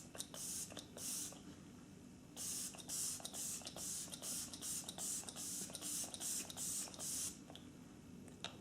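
Makeup setting spray misted onto the face in a long series of short, rhythmic hissing bursts, close and fairly loud, with a brief pause near the start and a little quiet movement between bursts.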